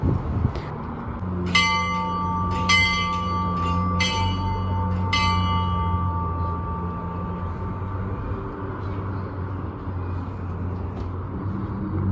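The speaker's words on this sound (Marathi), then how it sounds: "इथे ही खालती फॉर्च्यून बेल आहे." A large fortune bell in Chinatown at New Year rings several times in quick succession, then its deep tone hangs and slowly fades over a low background rumble.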